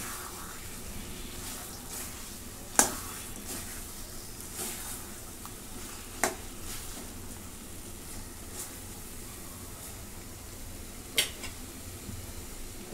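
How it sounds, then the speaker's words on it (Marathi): Soft sizzling in a pan as chicken is stirred with masala, with a few sharp clinks of a utensil against the metal. "आता याला मिक्स करून घेते मसाल्यासोबत."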